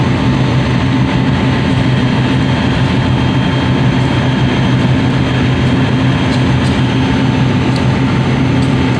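A heavy, steady rumble of a large engine fills the whole stretch, continuous and fairly loud, as a train idles or passes close by at the short platform of Bumiayu station, Indonesia.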